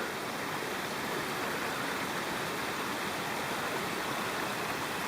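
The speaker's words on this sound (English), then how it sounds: "There's a stream, so that's a water source." A forest stream flows steadily on a Scottish hillside, a continuous broadband rush of water that stays even and fairly close throughout with no voices over it.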